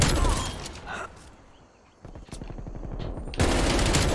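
Rapid automatic gunfire from a new weapon in Call of Duty: Black Ops Cold War, loud bursts at the start and end with a quieter stretch of shots between.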